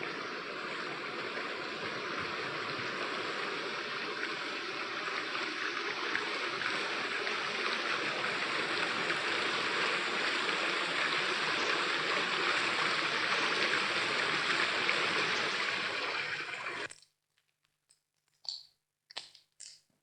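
The Torío river in León rushes through rock gorges carved by its current, a steady, full hiss of flowing water that cuts off abruptly, followed by a few sharp clicks in near silence.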